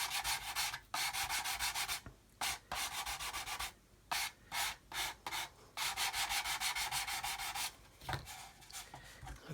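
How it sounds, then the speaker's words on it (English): Hard sanding stick rubbing back and forth over a surface next to an opening on a model buff build, close and steady in repeated strokes with brief pauses between runs. "you need to make sure you keep to your hard sticks when you're sanding next to openings"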